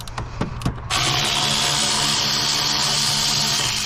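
A tool loosening 12 mm battery terminal bolts on a Kia or Hyundai: a few sharp taps and clicks, then a loud continuous grinding whir that runs steadily to the end, close up and without voices.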